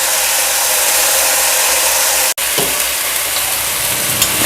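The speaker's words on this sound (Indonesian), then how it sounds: "jadi saya tumis sebentar aja." Vegetables for seblak sauté briefly in a pan with a loud, steady close-up sizzle, broken by one abrupt momentary dropout before the crackle resumes.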